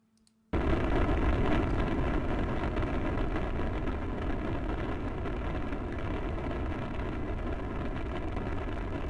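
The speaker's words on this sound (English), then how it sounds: "Liftoff." A rocket lifting off in Minecraft with the GregTech New Horizons modpack: after a brief near-silence, a sudden loud roar bursts in and holds as a steady, heavy rumble to the end.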